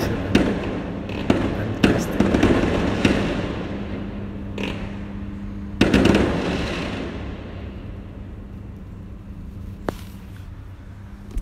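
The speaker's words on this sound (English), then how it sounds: "Wow, there's a fireworks." New Year fireworks bursting outside a hotel in Johor Bahru, Malaysia: a steady rumble of distant explosions punctuated by several loud, sharp bangs and crackles, with the biggest bursts near the start and midway.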